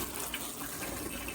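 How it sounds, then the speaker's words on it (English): Water poured steadily into homemade worm bedding, a close, continuous gushing splash with no pauses. "we're going to add some water to this"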